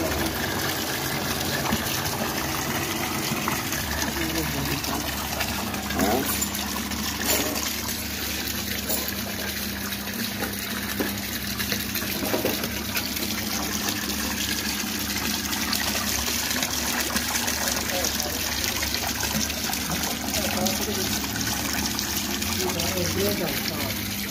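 A 12 volt DC water pump runs steadily, a constant whirring hum with gushing, trickling water over it, fairly quiet and unbroken throughout.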